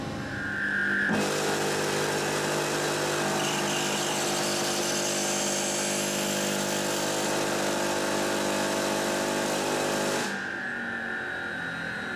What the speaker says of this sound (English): today we're going to test some welds on our 30-ton linear friction welding machine